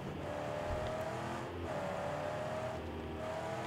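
Engine of a car driving in the game Mad Max, a steady droning hum with slowly rising revs that reset twice, moderately quiet and continuous with no voices.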